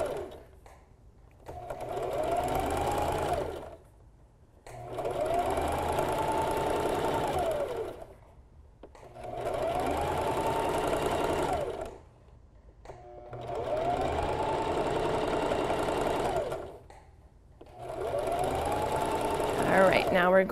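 A sewing machine stitches binding onto an upcycled t-shirt in five steady bursts of rapid whirring, each several seconds long and separated by short pauses, while someone talks over the stitching.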